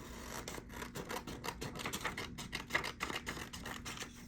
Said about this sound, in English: everybody has their pair of scissors, and we are going to cut one of these out